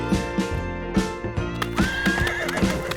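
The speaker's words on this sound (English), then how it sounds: "Peppa loved watching the horses." A cartoon horse neighs loudly over rhythmic clip-clopping hooves, the whinny rising and wavering while the hoofbeats keep a steady trotting pattern.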